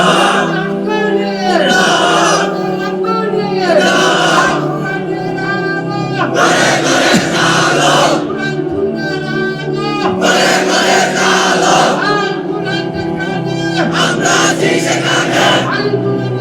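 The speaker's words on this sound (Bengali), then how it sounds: "তোমরাই স্লোগান দাও, তোমরাই তাকবীর বলো" A large crowd at a Bangla Islamic sermon gathering shouts slogans and takbir in loud, repeated collective bursts, rising and falling in waves with chanted pauses between.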